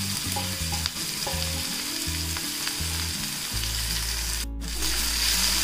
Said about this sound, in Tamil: இதெல்லாம் சேர்த்து நல்லா வதக்கிக்கோங்க